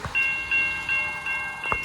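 A Buffalo Southern Railroad train rolls down the line at Lake Avenue in Blasdell, New York: a brief, fairly quiet passage with faint sustained metallic squealing tones over a soft rumble.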